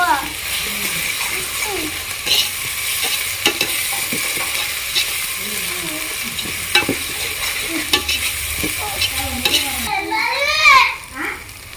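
Ginger being stirred into a mixture frying in a pan, with steady sizzling and the scrape of a spoon, close, while voices talk in the background.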